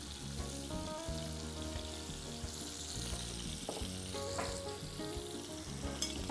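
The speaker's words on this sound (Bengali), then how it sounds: "এই ফাঁকে আমি এই চুলায় একটু ক্যাপসিকামটাকে সতে করে দিব" Capsicum sautéing in a little oil in a pan on a stove, a steady close sizzle and frying hiss with light stirring, alone with no talk.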